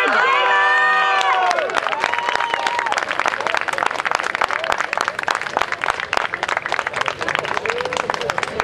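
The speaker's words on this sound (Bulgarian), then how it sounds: "Така, с аплодисменти, нека да посрещнем и следващия изпълнител." An audience at a kaba gaida bagpipe competition in Gela claps and cheers steadily to welcome the next performer. Loud, dense applause fills the whole stretch, with a sustained droning tone at the very start.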